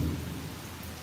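Heavy rain pours steadily with a low thunder rumble underneath during a Tampa, Florida afternoon thunderstorm, a short dense wash of sound with no talking.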